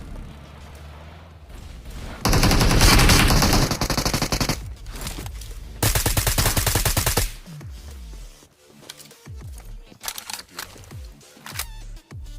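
Gunfire in BGMI, a mobile battle royale game, comes as loud sustained bursts of automatic fire, two long volleys separated by quieter stretches, followed by scattered single shots and thuds.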